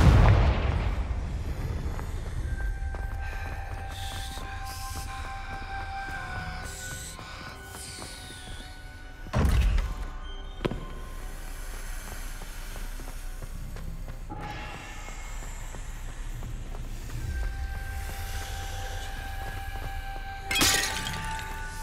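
Confringo spell blasts in Hogwarts Legacy, a booming fiery burst at the start followed by sharp shattering impacts and further crashes spread through a game soundscape with faint musical tones, no talk during it.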